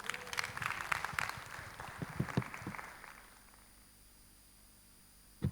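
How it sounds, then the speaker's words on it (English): Audience at a love and relationship masterclass applauding, scattered close claps for about three seconds that fade out into near silence, with a short bump at the very end. "Another round of applause."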